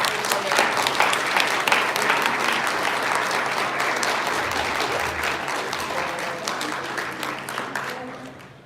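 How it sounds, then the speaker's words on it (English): A crowd gives a long round of applause welcoming visitors from Brazil. The steady, thick clapping fades gradually toward the close, with faint voices mixed in. "if everyone could please give a huge round of applause to these"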